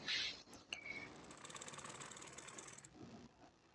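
A sewing machine stitches blouse fabric in a steady, faint mechanical whir that runs for a few seconds, with a small click at the start and a brief hiss before it settles.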